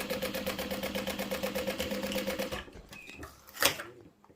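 A sewing machine runs in a fast, even stitching rhythm through fabric for a passport holder project, then stops after about two and a half seconds, leaving faint handling noises and one brief clack.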